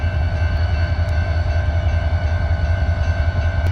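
A train idles at an Oklahoma station with a loud, steady low engine rumble and sustained tonal whine, plus a few faint metallic clicks, and no voices.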